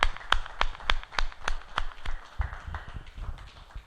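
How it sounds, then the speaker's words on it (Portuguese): A church congregation claps in a steady, evenly spaced rhythm of sharp hand claps, moderately close, with little talk. "Pode aplaudir ao Senhor."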